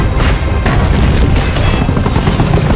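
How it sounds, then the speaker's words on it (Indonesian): A helicopter blows up in a film scene, a loud sustained roar of booming explosion and crackling debris with dense rumbling low end throughout. "Sialnya helikopter itu meledak"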